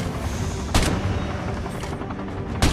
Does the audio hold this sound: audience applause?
no